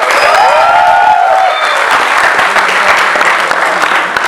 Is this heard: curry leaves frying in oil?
no